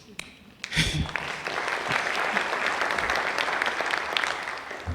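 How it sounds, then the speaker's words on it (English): A conference audience at an opening session breaks into loud, sustained applause after a brief pause. The clapping is dense and close, with scattered cheers mixed in. "Round of applause, please."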